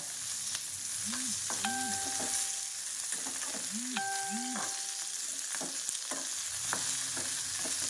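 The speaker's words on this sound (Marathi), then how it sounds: "थोडं कढईच्या थोडं लांब उभा राहूनच आपल्याला या मिरच्या भाजून घ्यायच्या आहेत" Green chillies roast in a kadhai with a steady, fairly loud frying sizzle and crackle that runs the whole time, alongside a few tonal, music-like sounds. No voices.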